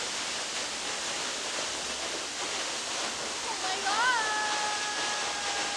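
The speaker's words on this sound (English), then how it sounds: "Creek, nice creek." Creek water rushes steadily near Silver Falls on the Oregon coast, a continuous broadband flowing hiss close to the listener, with a brief high whistle-like chirp partway through.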